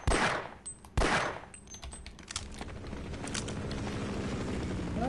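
Apache helicopter gunfire in the Half-Life level Surface Tension, heard as sharp bursts of rapid shots early on and then a sustained rumbling rattle, mixed with other game sounds.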